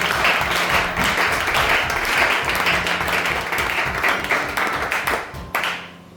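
Sustained applause from a church congregation at a Sunday service: dense, steady clapping from many hands throughout, tapering off near the end.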